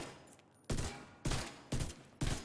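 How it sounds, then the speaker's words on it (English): An exotic weapon in The Division 2 fires four heavy, booming bursts at a steady rhythm, each striking hard and then ringing out before the next, loud and close with no talking. "When you now switch to the left shoulder and shoot, it will explode."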